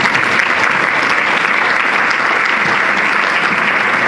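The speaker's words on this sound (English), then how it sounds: "Let's give a warm round of applause to our panelists for this session as they come up on stage" Steady, dense audience applause at a panel session as panelists walk up on stage, loud and unbroken throughout with no voices over it.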